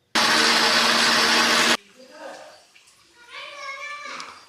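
A blender grinds beetroot with added water into a smooth paste, a loud steady whir that runs alone for about a second and a half and then stops abruptly, followed by quieter talking.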